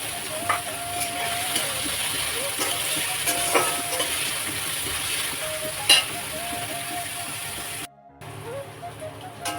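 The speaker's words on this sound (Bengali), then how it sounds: "তাই পেঁয়াজটাকে আগে ভেজে নিই, তারপর পেঁয়াজের সাথে ডিমটাকে দিয়ে ভেজে নিই" Onion fries in a generous amount of hot oil in a wok, with a steady, faint sizzling hiss running throughout and a brief dropout near the end.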